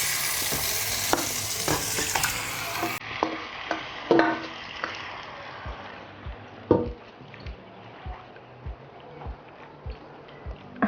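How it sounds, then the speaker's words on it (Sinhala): Chicken pieces frying in hot oil while being stirred, a close sizzle that fades as repeated knocks and scrapes of a spoon against the pot come through in an uneven rhythm. "තෙල් එක රත් කරලා චිකන් එක දාන්නේ"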